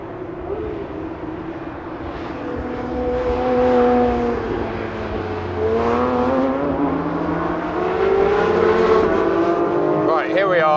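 A Porsche 992-generation GT3 RS is driven around the Spa circuit, its engine loud and close with rising and falling harmonic tones as it accelerates and shifts through gears, with a rising whine near the end.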